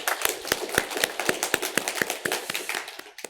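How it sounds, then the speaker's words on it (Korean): Rhythmic congregational clapping during a Sunday church service, steady sharp claps in a regular beat, fairly close, with a crowd murmur underneath. "우리 하나님께 감사와 영광의 박수를 올려드리겠습니다."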